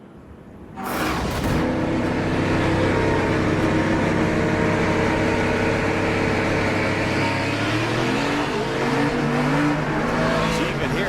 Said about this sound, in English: spun the tires on the restart moments ago